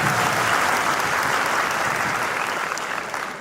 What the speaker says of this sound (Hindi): सबसे पहले इन लोगों की जोरदार तालियां हो।